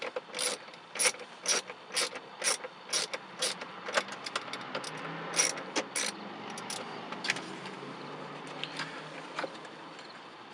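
Ratchet wrench loosening a 7mm bolt inside a Jeep Wrangler dash, a run of quick, close clicking bursts that thin into lighter rattles and scrapes.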